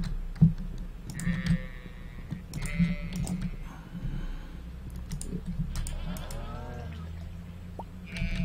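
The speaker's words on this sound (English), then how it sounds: "My poor sheep are up here like hairy as can be." Sheep on a farm in the video game Stardew Valley bleat several times, short wavering calls spread across the clip over a steady low hum, with faint clicking in the background.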